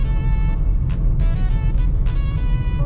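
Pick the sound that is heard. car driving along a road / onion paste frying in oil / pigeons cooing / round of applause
car driving along a road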